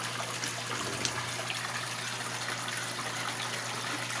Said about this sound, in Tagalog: I-clear out natin yung tubig.